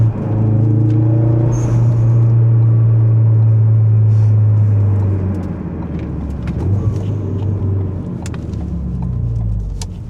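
A big-turbo Ford Focus RS engine drones loud and steady while driving, a deep low hum that eases slightly partway through, with faint road rumble and occasional clicks.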